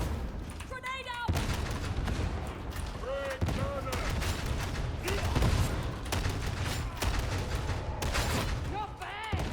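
Grenade blasts and rapid gunfire from a Darktide battle against heretics, a dense, continuous barrage of shots and booms, with voices talking over the fighting.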